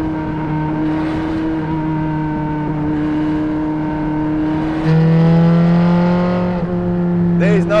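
A Ferrari Challenge Stradale V8 race car engine idles and revs close by, its steady drone rising in sharp climbing blips near the end, with someone talking over it.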